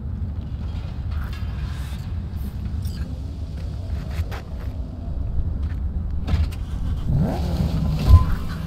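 A car in the video game Cyberpunk 2077 rumbling low and steady as it pulls away, with mechanical creaks and a rising rev toward the end, heard close without talk.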